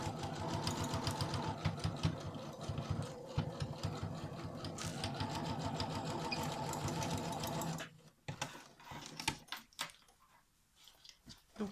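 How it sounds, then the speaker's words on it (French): Sewing machine stitching the seam of a rectangular pencil case: a steady, fast mechanical whirr runs for about eight seconds, then stops, leaving scattered soft clicks and handling noises. "On va coudre tout ça à 1 cm."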